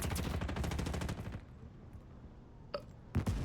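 Rapid bursts of gunfire from a Roblox war game crackle loudly in quick succession, then stop, followed by two sharp isolated shots after a pause.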